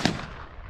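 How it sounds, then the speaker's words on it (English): A single sharp crack from a Henry .22 Magnum lever-action rifle fired at a steel excavator bucket outdoors, a quick close report that fades into a short tail of ambience. "let's just shoot this and see what it does"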